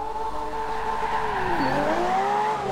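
A Bugatti EB110 sports car engine holds a steady high drone in a driving game, with a brief dip and swelling rise in pitch as it shifts and accelerates, continuous and close.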